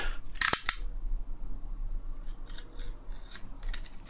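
A stuck, non-removable part being cut off a 12V mini air-conditioning compressor: two loud, sharp snips close up at the start, followed by quieter scraping and a few faint clicks.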